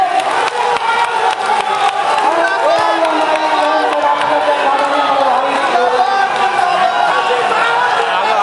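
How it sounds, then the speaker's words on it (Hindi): A large crowd at a party workers' conference greets Asaduddin Owaisi with loud, sustained clapping and cheering, dense and close with shouts and voices mixed in throughout. "आप लोग जोरदार तालियों से उनका स्वागत कीजिए।"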